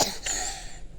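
A single sharp cough bursts out at the start, followed by a brief throaty second expulsion, close and fairly quiet with no talking around it.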